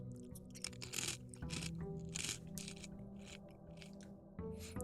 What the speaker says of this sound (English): Is there very loud crunching as I eat these delicious Cheez-Its?